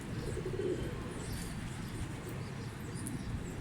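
Akbaş pigeons cooing in a steady low murmur with faint chirps above, a dense continuous flock sound close by with no talk.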